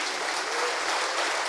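A church congregation claps steadily and loudly throughout, a dense continuous wash of applause from many hands.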